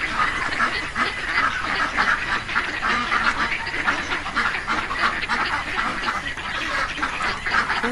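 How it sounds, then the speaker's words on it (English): A flock of ducks quacks continuously in a dense, overlapping chorus, loud and steady throughout with no talking. "The ducks live so free."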